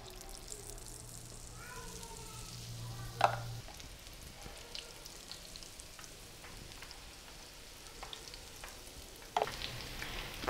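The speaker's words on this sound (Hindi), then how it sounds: "चम्मच की मदद से हम इसमें फुल्कियाँ डालते जाएंगे।" Spoonfuls of gram flour batter for phulkiyan dropping into hot oil over a slow flame, faint soft sizzling with a few sharp splashes and clinks, quiet and close.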